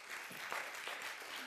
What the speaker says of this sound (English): So please, can you give her a round of applause?